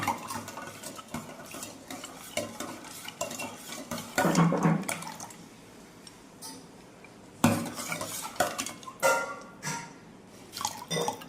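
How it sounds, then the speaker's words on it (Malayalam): A spoon stirs a homemade mojito with ice and soaked basil seeds, clinking and scraping against the glass in repeated bursts with soft liquid swishes, close up and with no talking. "നന്നായിട്ട് മിക്സ് ആക്കാം."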